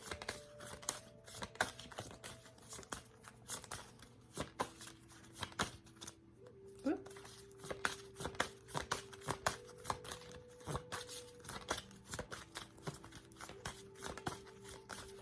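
A deck of tarot cards is shuffled by hand, the cards sticking together, giving a close, steady run of crisp papery clicks and soft slaps in an irregular rhythm, with no talking and only a faint hum beneath.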